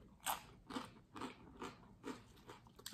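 Someone crunches through a salad with tortilla chips and cashews in close, loud bites, about six crisp crunches spaced roughly half a second apart, with no talking.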